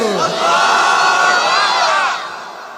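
A large crowd roars 'Allahu Akbar' in unison in answer to a takbir call at an outdoor religious sermon gathering, a loud sustained collective shout that swells, holds, then fades.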